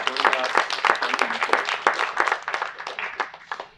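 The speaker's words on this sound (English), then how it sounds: "Can you just give a quick round of applause for Julian and Olivier" An audience at a fireside chat event applauding, a brief burst of dense clapping that rises quickly and fades after a few seconds.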